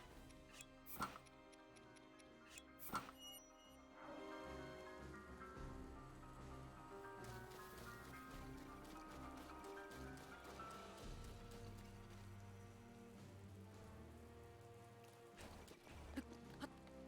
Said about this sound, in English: Not only that, but it's raining.